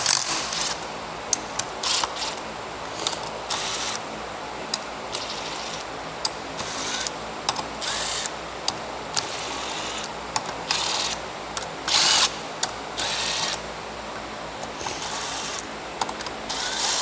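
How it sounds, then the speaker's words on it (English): A ratchet clicks in repeated bursts while loosening clutch cover bolts on a CFMOTO U10, with uneven pauses between turns and occasional metallic clinks, close and fairly quiet in a workshop. "So whenever you're taking these bolts out, just do it evenly because of the spring pressure."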